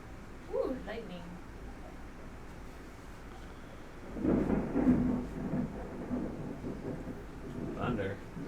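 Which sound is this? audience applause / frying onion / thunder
thunder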